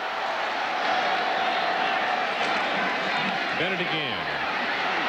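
A college football stadium crowd at a 1993 Alabama at South Carolina game roars in a broad, sustained wash of cheering beneath a play-by-play announcer's voice.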